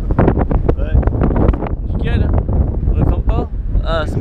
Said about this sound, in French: il y a un peu de vent ici